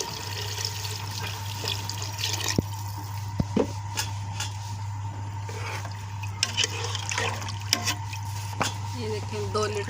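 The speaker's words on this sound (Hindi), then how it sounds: "अच्छे से मिक्स करके इसमें तकरीबन हम 2 लीटर पानी डालेंगे।" About two litres of water poured into a pressure cooker of whole masoor daal, a continuous splashing pour with a steady low hum beneath and occasional sharp clinks and knocks.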